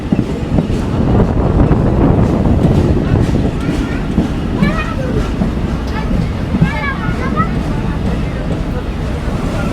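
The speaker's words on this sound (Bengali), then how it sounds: "আর আমাদের ট্রেনের আজকের লোকোমোটিভ ডাব্লুডিএম" A Mongla commuter train hauled by a WDM diesel locomotive rumbles along loudly and steadily, with faint wheel squeals midway through the run.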